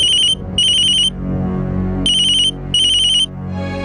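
A phone ringtone for an incoming call, a bright electronic chiming tone repeating in short loud bursts with brief gaps, alone and close.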